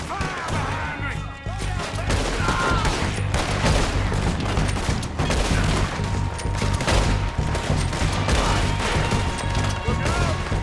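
Shootout in Red Dead Redemption 2, a dense barrage of overlapping gunshots and rifle fire with booming impacts, loud and continuous, with shouted voices mixed in.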